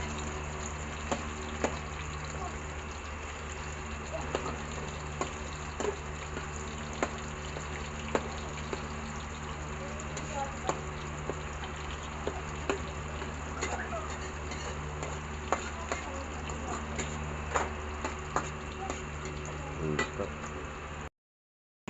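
Ginger, onion and garlic fry in a pan for Filipino chicken liver and gizzard adobo, giving a steady close sizzle with scattered pops and spatula taps, with no talk.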